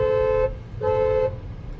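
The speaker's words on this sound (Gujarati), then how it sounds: "કયો કયો હોર્ન મારે છે" A car horn honking in traffic: two loud, close, steady toots of about half a second each, separated by a short gap, with low road rumble underneath.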